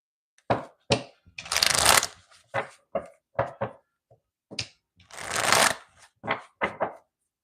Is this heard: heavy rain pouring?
no